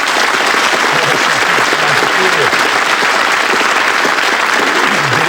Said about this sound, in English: Give this lovely couple a nice round of applause.